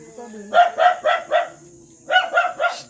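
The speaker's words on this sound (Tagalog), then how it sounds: "Kaya maigay may aso." A dog barks in two quick bursts, four sharp barks then three more, fairly close, with a low hum running underneath.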